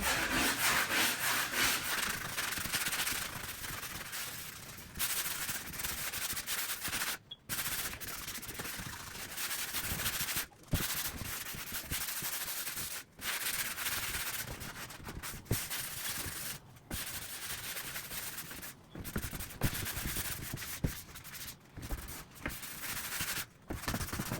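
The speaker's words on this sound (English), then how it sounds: "we're going to start off right now with a little bit of sanding" Close, continuous abrasive rubbing of sanding on a wooden front door, harsh and steady, broken by a few brief pauses.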